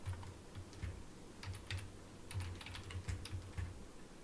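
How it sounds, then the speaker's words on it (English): Fast, light keystrokes on a computer keyboard, a steady run of close clicks and taps with no talking. "we're going to type"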